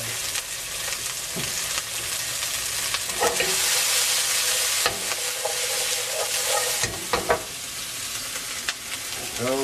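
Vegetables and onions sautéing in extra virgin olive oil, a steady hiss of frying with bursts of stirring scrapes and clatter, close and continuous.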